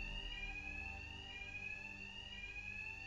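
An alarm rings in the video game Batman Arkham Knight, a continuous high electronic tone that stays steady and fairly faint throughout, with no talk.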